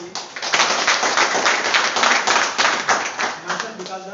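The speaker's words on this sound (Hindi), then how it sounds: "एक बार जोरदार तालियां होंगी।" An audience at a parents' meeting claps loudly and rapidly in a dense, sustained burst of applause that lasts about four seconds, with a faint voice near the end.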